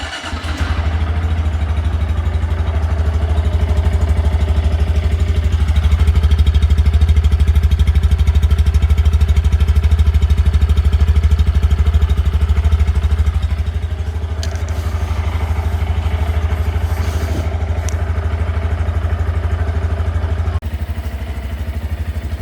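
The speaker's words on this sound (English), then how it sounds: "Let's get the sound of the stock exhaust." A 2023 Honda Grom 125 motorcycle idles with its stock exhaust, a steady low, even engine rumble held close for the whole stretch with slight mechanical clatter and no talking.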